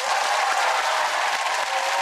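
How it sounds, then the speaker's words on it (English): A studio audience at a Friday-night entertainment show claps and cheers in a loud, steady wash of applause that fills the whole stretch without a break. "Give him a massive round of applause"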